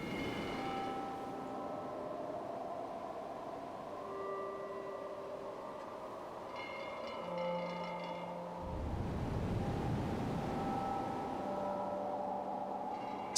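A quiet layered sound-design mix for a sculpture blends an ocean wash, a scraping layer set far back and dripping sounds, with sustained ringing tones throughout and a swell of rushing noise in the second half.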